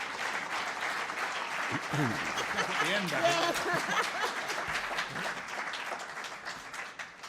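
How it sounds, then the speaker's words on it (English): A conference audience applauds at a political party conference, broad steady clapping filling the room with a voice briefly audible through the middle of it. "If we could all just give them a round of applause for coming and giving up their good time."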